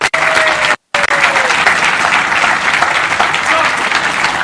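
Loud, sustained applause from an audience at an airport concourse groundbreaking ceremony, steady clapping briefly cut by a short gap, with some voices underneath.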